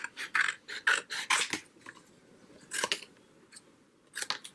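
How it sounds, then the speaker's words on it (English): Scissors snip through an old paper calendar in quick repeated bursts, close and crisp, with short pauses between runs of cuts. "Or I can cut them apart."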